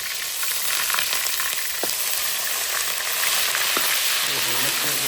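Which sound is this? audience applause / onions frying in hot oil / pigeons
onions frying in hot oil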